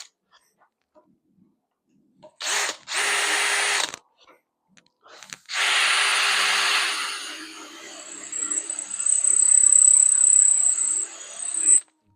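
A power drill boring a hole runs in two bursts, a short whirring run and then a longer, steady high whine that climbs in pitch near the end, loud and close with no speech.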